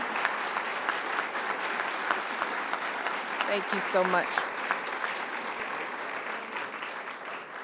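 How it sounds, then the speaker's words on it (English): An audience applauds two individuals at an event introducing a speaker, with steady sustained clapping throughout while a voice speaks briefly over it near the middle. "a round of applause"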